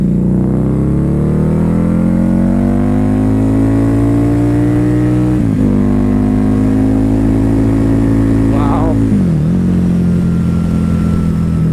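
Harley-Davidson V-Rod Night Rod Special cruiser on a test ride, a loud close engine drone that rises and holds through upshifts, with short dips and a throttle blip between gears.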